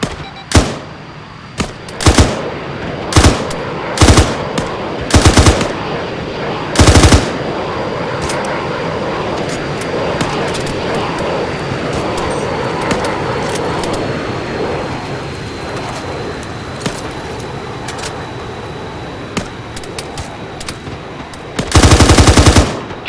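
Gunfire in the military shooter ARMA 3, with several loud single shots and short bursts spaced out over a steady rumbling background, then a longer burst near the end, close and sharp.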